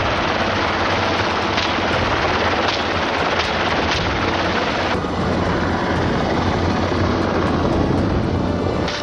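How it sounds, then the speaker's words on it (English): Rapid rifle gunfire rings out during a helicopter hog hunt over a field, with sharp repeated shots cutting through the loud, steady roar and thump of the helicopter. "squeezes the trigger, dropping his target instantly"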